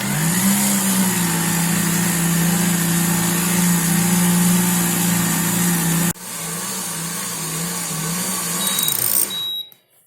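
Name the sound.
dough mixer kneading rye-wheat dough at lowest speed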